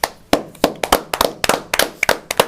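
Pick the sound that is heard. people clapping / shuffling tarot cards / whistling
people clapping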